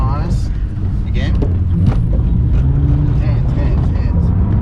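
A Ford Falcon driven sideways under throttle, its engine roaring steadily and close with tyre noise mixed in, while people talk over it.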